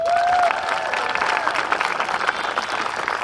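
An outdoor crowd at a baseball and softball parade claps and cheers in a sustained, moderately loud round of applause, with a few voices calling out over the clapping.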